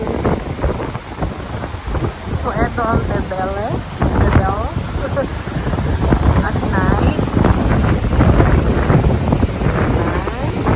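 Strong wind roars loudly and continuously across the microphone in Baler, Aurora, while people talk underneath it.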